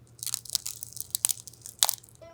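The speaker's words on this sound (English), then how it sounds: "We filled that hinge with fluorescent dust, folded it repeatedly, and then heard this crackling sound" The hinge of a Pixel 11 Pro Fold phone, packed with fine dust, crackles and crunches as it is folded: a close, gritty series of irregular scratchy pops and grinding bursts over a faint low hum.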